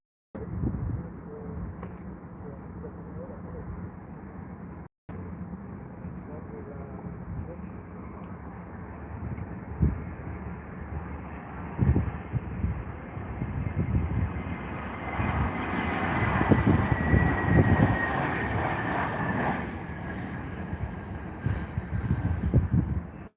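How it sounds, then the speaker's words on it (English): British Airways airliner landing at Heathrow Airport: a broad jet engine roar that swells from distant to louder and nearer, with outdoor ambience, bird sounds and people talking underneath. "Quite a hard landing there for BA."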